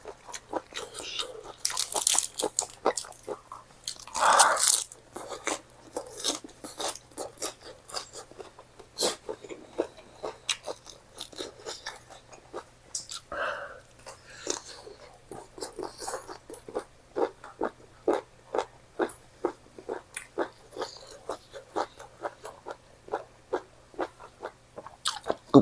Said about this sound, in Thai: กรุบกรุบกรุบเลยพี่น้อง